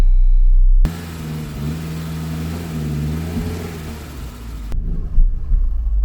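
A Saab 9-3 engine starts and revs hard against stuck front brakes, a loud close droning rumble that rises and falls for several seconds before cutting off abruptly.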